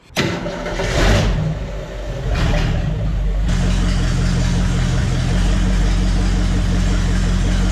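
A 1967 Ford Mustang engine settles into a low, steady idle after some uneven revving at first, a close, continuous rumble with a regular low pulse.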